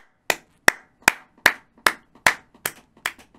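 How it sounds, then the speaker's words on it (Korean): One person claps alone in a quiet room in celebration, nine sharp, evenly spaced claps about 0.4 seconds apart, close and clear. "방음부스 계약했습니다 박수!"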